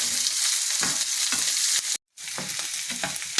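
Garlic sizzles and fries steadily in a hot pan for Telugu vellulli pachadi, a dense crackling hiss with occasional stirring scrapes and a brief drop to silence partway through, no voices.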